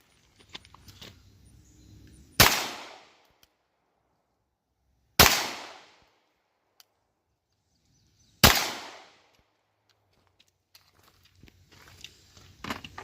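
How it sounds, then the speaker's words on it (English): Three sharp, loud 9mm shots from a pistol and carbine fired into ballistic gel ring out alone, evenly spaced a few seconds apart, each with a quick decaying echo in otherwise quiet surroundings. "So we'll do 3 out of the pistol and 3 out of the carbine."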